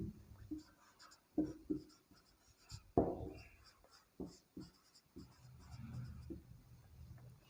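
Chalk or marker writing on a board during a Hindi-language physics lesson on force and the laws of motion, heard as short scratchy strokes in bursts with quiet talk and room noise between them.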